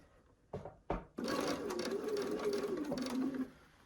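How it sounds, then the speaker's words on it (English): A sewing machine stitches fabric pieces for a quilt block, starting with two short whirring bursts before running in a steady, close whir for about two seconds, then stopping. "And sew it."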